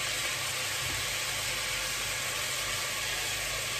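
Onion dropped into a pot of browning meat for a spiced chickpea-and-meat dish gives a steady, loud, dense sizzle that holds evenly throughout, with no voices.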